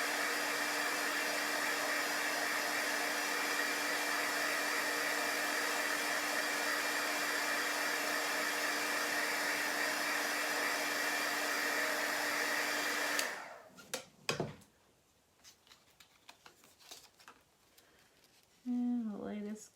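A dryer blows a loud, steady rush of air onto wet, squeegeed Chalk Couture paste on a copper farmhouse tray for about thirteen seconds, then cuts off abruptly, leaving quiet handling noises and a brief voice.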